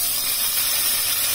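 Steady, loud hiss of a steamer cooking Chinese cabbage rolls, a continuous broadband rush without breaks or voices.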